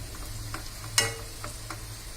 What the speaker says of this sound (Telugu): ఈ రైస్ని సగం వేసేస్తున్నాను.